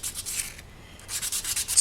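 A polymer clay pendant is sanded smooth by hand in quick, rhythmic back-and-forth rasping strokes, close and fairly quiet, with a short pause midway.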